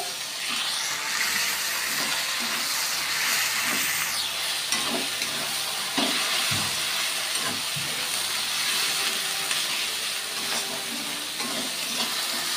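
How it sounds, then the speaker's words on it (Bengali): Onions and bay leaves fry with spices in a pan for a goat meat curry, giving a loud, steady sizzle and hiss throughout, with faint stirring knocks and no talking. "পেঁয়াজ ভেজে নিয়ে পেঁয়াজ আর তেজপাতি ভেজে নিচ্ছে।"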